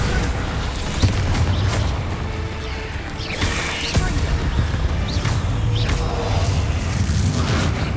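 Bombarda blasting spell detonating in Hogwarts Legacy combat, a heavy boom with crashing debris inside a dense, continuous wash of loud battle noise.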